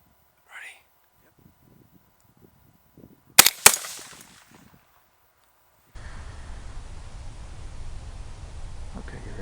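A single loud rifle shot cracks out during a cold-weather coyote hunt, following quiet whispered talk, with a short echoing tail and then steady wind or rustling noise.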